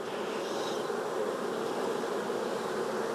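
Honeybees swarm over a hive frame during an inspection, a dense, close, continuous buzzing hum from many insects with no talk over it.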